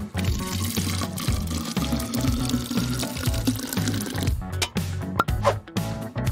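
Soda pours steadily into an empty bottle with a gurgling, splashing flow that continues for several seconds, close up, with a few clinks near the end.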